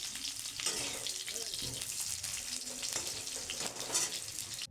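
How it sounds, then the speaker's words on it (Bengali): Potatoes frying in oil to a reddish brown, a dense, steady, loud hiss of bubbling oil up close with faint stirring underneath. "আলুটা এবার ভেজে নিচ্ছি লাল লাল করে ভাজতে হবে"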